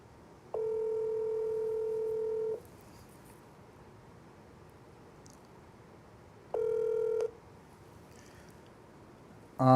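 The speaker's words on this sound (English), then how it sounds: "Let's see if they answer the phone." A telephone being dialed to call someone, two bursts of a steady electronic tone about two seconds and one second long, separated by quiet room hiss, with no talking.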